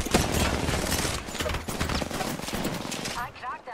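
Rapid gunfire in the video game Apex Legends, dense bursts of shots crackling almost continuously up close, then tapering off near the end as a voice talks briefly over it.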